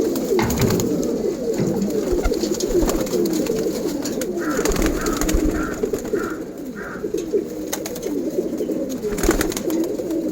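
Pigeons on a rooftop, crowding for water on a hot afternoon, coo in low repeated throaty bursts close by, with wing flutters and scuffling clicks scattered throughout.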